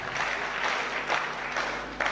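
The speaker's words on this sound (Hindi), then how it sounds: "आप ताली क्यों बजा रहे हैं?" A seminar audience claps together indoors, a dense crackle of many hands that swells and eases in small waves, with no talk over it.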